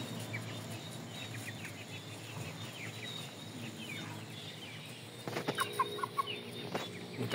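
Shamo and Indio chicks and chickens cluck and peep softly in a coop, scattered small calls at a quiet level, with a burst of louder, closer clucks near the end.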